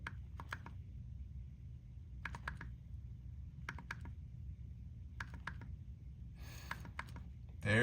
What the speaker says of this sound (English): Change the band with the double click.